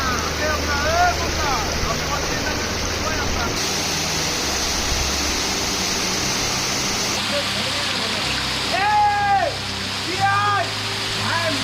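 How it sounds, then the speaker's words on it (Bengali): A boat travels on water near a waterfall at Kaptai in Bangladesh. A continuous rushing wash of water and wind runs throughout, with occasional short high chirping calls over it. "আমরা এখন নৌকাটা ঝর্ণার উপরে আছি, যাবো মুখোছড়াতে"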